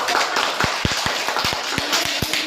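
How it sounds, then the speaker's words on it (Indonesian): Students in a classroom give a short round of clapping, a handful of distinct, uneven claps ringing out close by over soft room murmur. "kita berikan tepuk tangan untuk"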